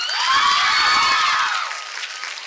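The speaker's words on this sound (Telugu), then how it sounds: "గట్టిగా క్లాప్స్ కొట్రా" Loud cheering and clapping from a crowd of students at a women's college event, with shouts and whoops rising over the applause before it fades out.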